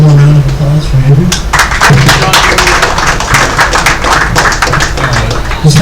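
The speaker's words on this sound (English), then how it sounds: "One more round of applause for Andrew." Audience at a cyber warfare range event applauding after a talk: several seconds of moderately loud, steady clapping from a modest crowd, following brief speech and ending as a voice resumes.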